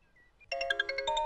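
A short electronic ringtone chimes in a quick repeating melody after a brief faint tone, clear and close.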